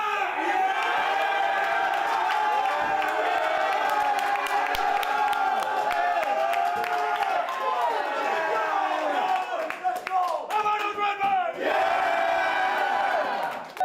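A packed high school basketball gym erupts in loud, sustained cheering and shouting, the crowd roaring continuously with sharp bursts of claps and whistles near the end.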